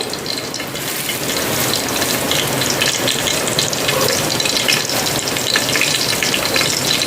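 Whole spices such as cinnamon sizzling in hot ghee in a pan for ghee rice. A loud, steady, close frying hiss continues without a break and with no talking.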